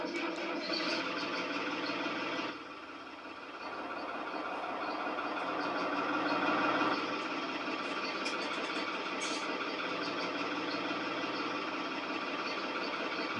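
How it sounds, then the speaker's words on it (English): A Fiat 605 Super C antique tractor engine in Farming Simulator 19 runs steadily with a dense, buzzing idle that dips briefly then rises and holds at a constant drone, with no talking. "you ready to hear what this thing sounds like? This thing is a Fiat 605 Super C."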